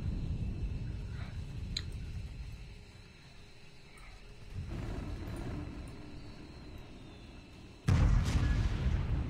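Bombs from an F-16 exploding in the video game Military Tycoon: a low rumbling background swells, then a sudden loud, heavy blast hits near the end and keeps roaring.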